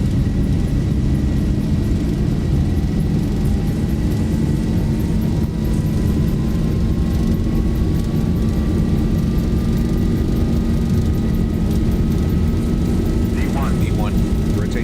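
Boeing 737-800 on its takeoff roll in the X-Plane 12 flight simulator, a loud, steady engine and rumbling runway noise with a slowly rising whine, and cockpit callouts spoken over it near the end.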